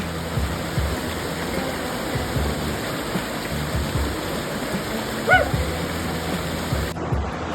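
Steady broadband rush of a waterfall, continuous and fairly loud, heard up close on a hot day during a cycling ride near Yackandandah and Beechworth, with a brief clatter near the end.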